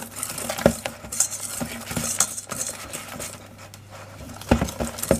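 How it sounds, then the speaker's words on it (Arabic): A spoon scrapes and taps around a bowl while stirring melted chocolate into eggs for chocolate cookie brownies, irregular close clinks and soft swishes with occasional louder knocks. "نخلط هذاك الشوكولا تاعي مع البيض مليح"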